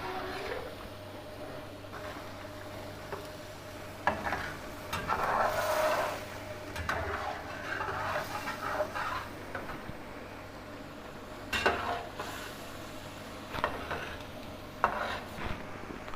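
Beef masala karahi with tomatoes and green chillies being stirred in a pan, a steady soft scraping and clinking of a utensil against metal with faint sizzling, occasional sharper knocks, no talk.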